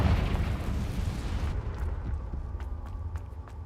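Confringo fire spell explosion in Hogwarts Legacy, a loud rumbling blast that holds for over a second and then fades into a quieter tail with scattered crackles and pops.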